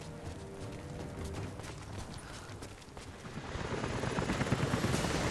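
Approaching helicopters in the Rise of the Tomb Raider video game, a rhythmic rotor chop that grows louder and denser over the last seconds, with no voices.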